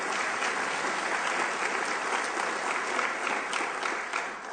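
A staff audience applauds itself at a workplace celebration with steady, full clapping at moderate distance that tapers slightly near the end.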